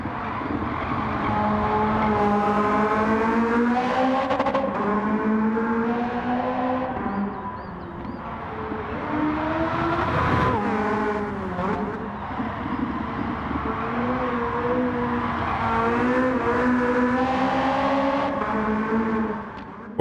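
Racing in Gran Turismo 7, the Porsche 918 Spider's engine howls loud and steady, rising and falling through shifts, with a brief dip and a burst partway through; no one speaks.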